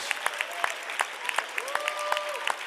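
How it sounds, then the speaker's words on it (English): Church congregation clapping hands in rhythm during worship, sharp repeated claps with sustained singing or vocal tones threaded through, moderately distant. "clap your hands and shout unto God with a voice of triumph"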